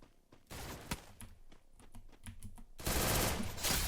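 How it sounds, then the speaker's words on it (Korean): Rapid bursts of gunfire in the mobile shooter game Free Fire, with an MP40 submachine gun and a shotgun in play, crackle in quick repeated volleys that grow louder and denser toward the end, with no talk over them. "둘 다 나만 쏘잖아"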